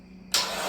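A Mazda B2200 truck engine with a freshly worked carburetor cranks: after a low hum, an abrupt, loud, broadband engine roar bursts in and holds steady, close up.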